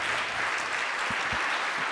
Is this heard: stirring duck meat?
no